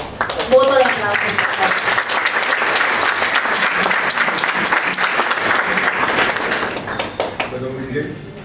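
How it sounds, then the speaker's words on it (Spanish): Loud, sustained applause from an auditorium audience at a nursing science conference, many hands clapping densely and steadily before tapering off, with brief voices audible at the start and end. "pido un fuerte voto de aplauso"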